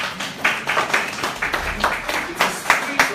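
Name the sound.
audience clapping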